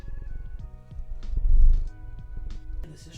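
A house cat purrs close by, a low rumbling vibration that swells in the middle. A few small clicks and shuffles from the room sit beside it.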